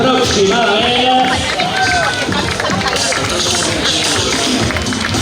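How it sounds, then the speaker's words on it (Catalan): Crowd at the finish line of a popular town road race in Calp, loud steady applause and cheering with a hubbub of voices throughout, no clear single speaker. "Eixe aplaudiment per als corredors que van entrar en línia de meta"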